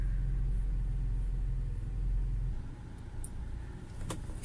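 A 2019 UAZ Patriot engine idling while it warms up, a steady low rumble that drops slightly halfway through and continues more softly, with a few faint clicks near the end and no talking.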